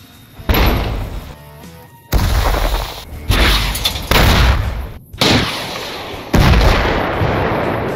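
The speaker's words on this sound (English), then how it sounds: "All Explosion Sounds Overhaul enhances explosion sounds" Modded explosions from the video game Fallout New Vegas boom in six loud, separate blasts, each a sharp impact followed by a rumbling, debris-filled decay, with brief gaps between.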